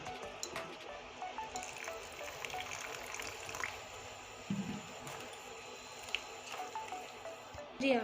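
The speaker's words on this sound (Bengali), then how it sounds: "এখন আমি ভালো করে গুলিয়ে নেব জল দিয়ে" Spice powders (coriander, chilli, turmeric), rice flour, gram flour and masoor lentils being mixed with water by hand, giving soft wet squishing and stirring sounds at a steady, fairly quiet level with a few sharper splats.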